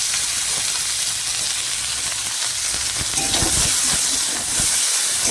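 Thin-sliced potatoes hit hot oil tempered with chili, giving a loud, continuous close-up sizzle and hiss that holds steady throughout.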